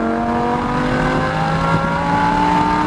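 A Lamborghini Huracán engine pulls steadily under acceleration on a racetrack, its rising tonal drone loud and continuous from inside the car, with no talking.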